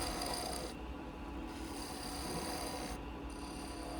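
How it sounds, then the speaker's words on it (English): Sandpaper rasps steadily against a small wooden cuckoo whistle spinning on a lathe, a continuous hiss with two brief dips where the paper lifts off, quiet and close. "Give it a quick sand over."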